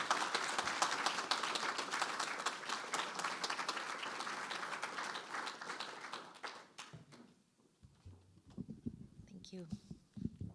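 An audience applauds to welcome poet Brenda Shaughnessy at a faculty presentation, a sustained wash of many hands clapping that fades out after several seconds, followed by quiet room sounds and a few faint taps.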